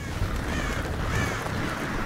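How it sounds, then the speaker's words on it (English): Crows caw amid a steady wash of wind on St. Swithin's Moor in the video game Tearaway Unfolded, a few harsh calls rising over the constant loud rushing background. "crows are now a force to be reckoned with"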